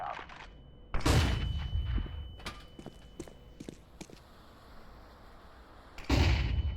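A flashbang grenade goes off in a tactical shooter game, two loud broadband bursts about five seconds apart with scattered clicks and footsteps between them, heard clearly near the listener.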